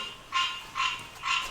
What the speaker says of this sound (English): Listen to those freaking frogs.